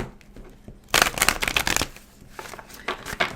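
A deck of tarot cards is shuffled close up, a quick burst of riffling and flapping card noise followed by softer, shorter shuffles, with no talking.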